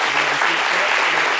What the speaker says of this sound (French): c'est sur ces applaudissements que nous allons vous dire au revoir